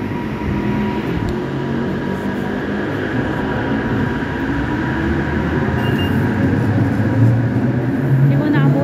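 A light rail (LRT) train passes through a station in the early morning, a loud steady rumble and rolling hum lasting throughout, with voices faintly in the background.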